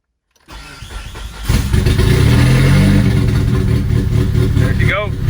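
Junkyard car engine cranking and firing up on its very first start after being fitted, catching quickly and settling into a loud, rough idle, close up with a brief squeal near the end.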